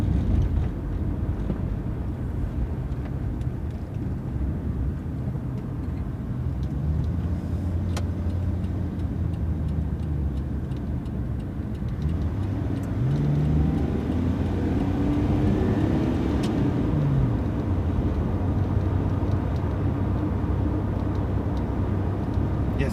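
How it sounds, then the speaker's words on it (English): A Nissan Laurel C31 driving on a dual carriageway, its steady old-school engine drone and transmission whine running continuously, with rising and falling tonal sweeps as it changes speed. "The noises are very old school. The transmission whines."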